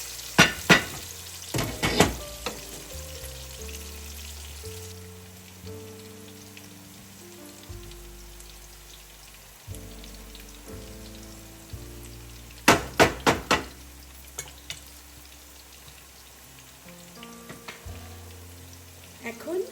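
Onion and tomato softening in a hot pan, with a continuous sizzle broken by clusters of sharp spatula scrapes and clatters near the start and again toward the end, and a voice speaking quietly at times.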